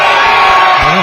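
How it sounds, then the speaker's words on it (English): Loud roaring crowd at an NWA Atlanta wrestling match cheering and shouting in favor of Luke Gallows, a dense close wall of voices filling the whole moment. "Overwhelmingly, the fans in favor of Luke Gallows here"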